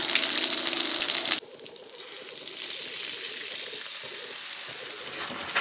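Mustard seeds spluttering in hot oil for citron pickle, a loud dense sizzle that abruptly drops to a softer steady crackling hiss after about a second, close by.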